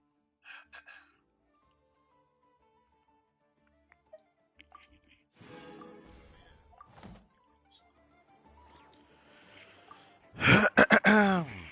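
Sharp coughing and throat clearing from a person whose water went down the wrong way, bursting out loud and close near the end after quieter shuffling and faint murmurs.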